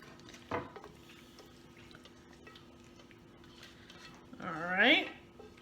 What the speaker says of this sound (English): I'm going to go ahead and dump this in my casserole dish